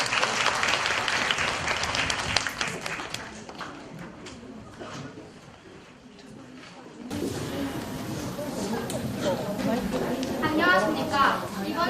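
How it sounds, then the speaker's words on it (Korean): Audience applause at an elementary school youth debate final in Korea, clapping fills the opening seconds, then fades into room noise before a student begins speaking at a microphone. "큰 박수 부탁드립니다."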